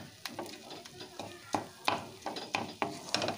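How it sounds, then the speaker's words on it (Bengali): Tomatoes frying in a pan for a tomato and jujube chutney, stirred and pressed with a spatula: repeated scraping strokes over a steady soft sizzle, close and moderately loud, no talking. "টমেটোটা বেশ অনেকটাই ভেজে নরম হয়ে গেছে, তবে আরও কিছুক্ষণ এটাকে একটু ভাজতে হবে"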